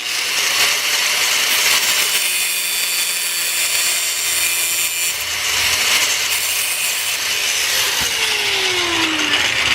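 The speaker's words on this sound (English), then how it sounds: "I could probably, if I really wanted to, take the hacksaw to it." Hacksaw cutting through a metal gauntlet finger part, a steady close rasping of back-and-forth strokes running continuously and loudly throughout with no talking.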